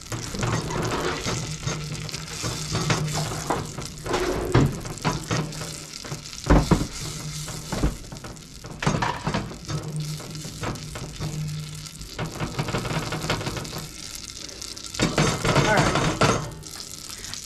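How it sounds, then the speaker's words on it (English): Onions and flour stirred in a frying pan hiss and sizzle steadily while a spoon scrapes in irregular strokes, with a few louder knocks and a voice talking now and then. "So I'll keep stirring this"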